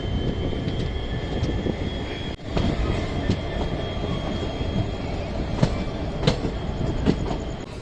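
A loud, steady train rumble with rattling carriages and occasional metallic clicks as the Raichur–Secunderabad train (17663) arrives at Chittapur station, the low roar continuing throughout.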